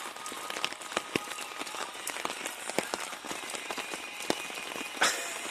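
Heavy rain patters steadily on tarps and foliage at a wet-weather hammock campsite, a dense close crackle of drops with sharper isolated hits and one louder splash near the end.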